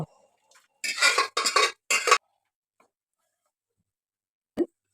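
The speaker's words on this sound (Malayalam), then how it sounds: "അപ്പോൾ വേവിച്ച് വെച്ച മത്തങ്ങ നമ്മൾ പാനിലേക്ക് ഒഴിച്ചു കൊടുക്കുകയാണ്" Cooked, mashed pumpkin for halwa goes into a pan with three quick scraping clatters of a utensil against the metal, then near silence broken by one faint knock.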